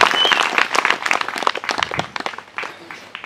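A church congregation clapping after a baptism at a healing service, brisk uneven handclaps close by with a few louder individual claps standing out, continuous for the whole few seconds.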